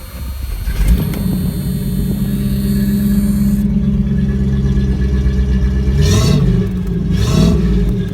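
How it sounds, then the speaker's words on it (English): A 1984 Chevrolet C10 pickup with a 305 V8 and single exhaust rumbles steadily at idle, close and loud, then gives two quick revs near the end. "Let's go ahead and start her up."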